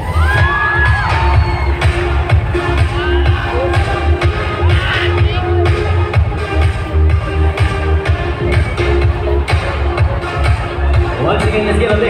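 An event audience welcoming Miss Karla Henry, a loud crowd roar with cheering, whoops and shouts sustained throughout, mixed with voices and scattered bangs, dense and close.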